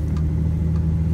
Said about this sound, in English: He's in Grandma's car going somewhere.